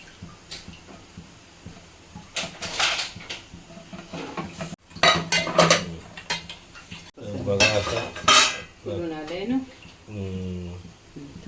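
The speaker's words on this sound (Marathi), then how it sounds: "कुकर उघडून" A pressure cooker holding dhokla is opened, with loud metallic clatter and scraping of pots and utensils in bursts. A person talks over and between the clanks.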